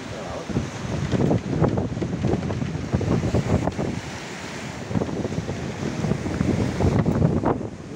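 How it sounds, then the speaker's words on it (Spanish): Rough sea waves off Cape Espartel in the Strait of Gibraltar slam and wash against a sailing boat in heavy weather, a continuous churning surge with gusting wind buffeting the microphone, loud and close. "Putas olas de Cabo Espartel."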